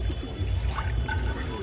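Butox-treated water poured over pigeons as they are bathed, a brief, close splashing pour with a voice faintly present underneath.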